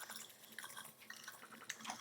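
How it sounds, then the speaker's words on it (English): Foley recording of a dog drinking water: quiet, close wet lapping and small splashy drips in an irregular rhythm, faint against near silence, with no voices. "This is like a Foley sound of my dog drinking water."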